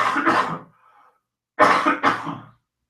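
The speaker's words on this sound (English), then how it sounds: "I have to cough." Two loud, rough adult coughs, each a harsh double burst, separated by a short pause with a faint breath between them, close to the microphone and with no talking.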